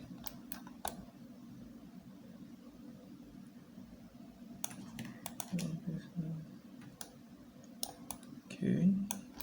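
Computer mouse clicks and keyboard presses tap sparsely over a faint fan hum while modifier keys are held during UV mapping work in 3D Coat, with some quiet speech in between.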